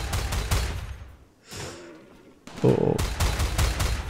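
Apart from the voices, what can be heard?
rifle gunfire in video game RimWorld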